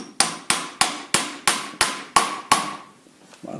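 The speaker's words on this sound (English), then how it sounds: "Just tap it till it goes in." Hammer taps a seal into place on a Bobcat loader, eight sharp metallic strikes at an even, fairly quick rhythm, close and loud, followed by a short quiet stretch.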